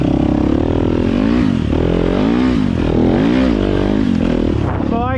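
A Honda CRF150F dirt bike on a trail gives a loud, close engine drone whose pitch rises and falls as the rider works the throttle, with a sharp rev near the end.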